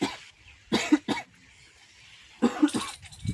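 A man coughs in short, harsh bursts: a pair early on, then a longer cluster near the end, close and fairly loud with quiet gaps between.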